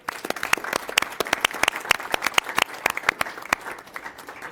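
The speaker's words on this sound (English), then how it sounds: "I'd like to also recognize him and give him a big round of applause." Audience applause fills a Sacramento Regional Transit District board meeting, a steady patter of many hands clapping for several seconds before tapering off.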